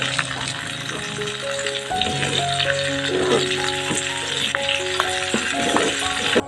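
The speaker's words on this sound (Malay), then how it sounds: "kemudian macam biasalah kita gaul bagi sebati semuanya" Potatoes with spring onion and celery leaves sizzling and being stirred in a pan, with a steady frying hiss and scattered scraping and rattling of the utensil against the pan, while a voice speaks over it.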